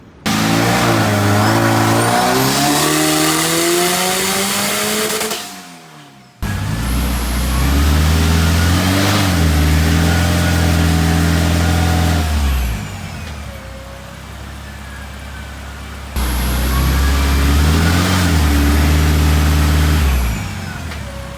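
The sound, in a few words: K24 turbo BMW E30 engine revving on a dyno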